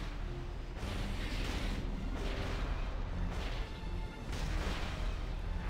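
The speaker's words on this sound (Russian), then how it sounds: "как-то очень долго пушки стреляют реально" Cannons fire in a video game, heavy booms landing about a second apart over a continuous rumbling din.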